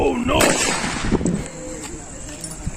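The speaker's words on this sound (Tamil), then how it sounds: "கத்திரிக்காய் சதறிடுச்சு" Kathirikkai (brinjal) Diwali firecracker going off outdoors: a loud bang at the start, then crackling pops and scattered bursts, with voices talking over the noise.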